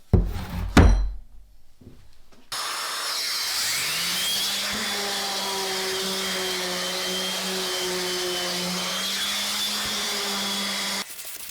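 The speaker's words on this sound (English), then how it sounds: "I'm gonna go ahead and sand this now." Power sander working a wood and epoxy piece: a few knocks and thumps, then the motor starts and holds a steady, loud whirring whine for about nine seconds before cutting off.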